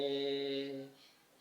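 One steady recorder note, D, breathy and close, held for under a second before cutting off.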